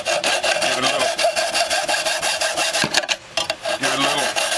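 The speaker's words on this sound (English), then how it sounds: "So, your handy dandy hacksaw proves useful." A hacksaw trims the edge of a circuit board for a homemade cantenna, giving a steady run of rapid, close rasping strokes with a short break before the sawing resumes.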